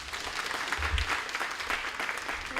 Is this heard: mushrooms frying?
no